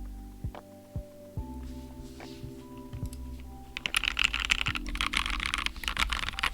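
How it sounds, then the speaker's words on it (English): Mechanical keyboard with Gateron Yellow switches typing, a few isolated key presses at first, then a fast, dense run of clacky keystrokes close up, with a steady hum underneath. "these ones are the Gateron Yellows I just typed on"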